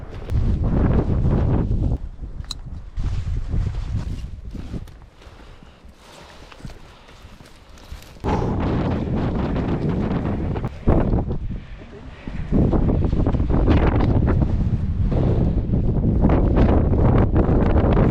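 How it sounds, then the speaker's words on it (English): Strong wind buffets the microphone in loud, gusty bursts over a mountain ridge, with a few calmer lulls between the roaring stretches. "pretty windy coming over that ridge"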